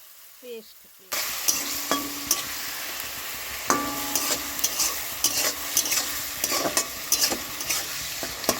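Tomato paste with chopped ginger and garlic sizzles loudly in a pan after a quiet start, with frequent scraping and tapping strokes of a spoon stirring the mixture close by.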